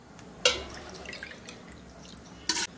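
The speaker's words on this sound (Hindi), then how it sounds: "पानी दीयां पा देंगे" Water poured onto rice in a bowl while preparing rice kachri, heard as two short, soft splashy bursts separated by a quiet stretch with faint dripping.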